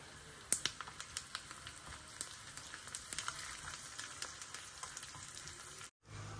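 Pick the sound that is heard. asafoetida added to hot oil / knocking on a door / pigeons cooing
asafoetida added to hot oil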